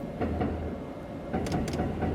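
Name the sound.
train running in Densha de Go! arcade video game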